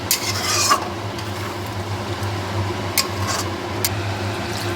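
Coconut milk being stirred into a shrimp curry in a pan, giving a low continuous bubbling hiss with occasional soft scrapes and taps of a spoon, close and moderate, no speech.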